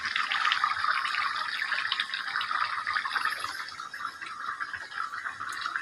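Fish curry broth with potatoes is poured in a steady, continuous stream with bright splashing and gushing, close by and fairly loud.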